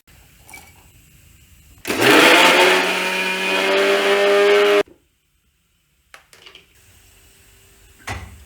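An electric grinder crushes garlic, ginger and green chilli in one loud, roughly three-second whirring burst that cuts off abruptly, followed by a few faint clicks and handling knocks.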